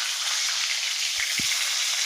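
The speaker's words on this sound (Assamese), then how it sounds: "এতিয়া আকৌ পনীৰখিনি ভাজিছোঁ।" Paneer pieces fry in hot oil in a home kitchen, giving a steady, even hiss of sizzling with a couple of soft low bumps partway through.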